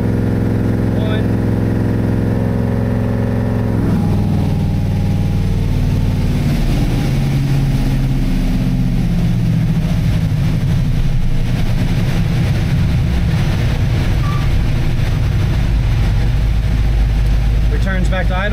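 A Chevy C10 truck engine tuned with a Holley Terminator X, loud and close, rumbling as it revs and then settles back to a steady idle, with no talk over it.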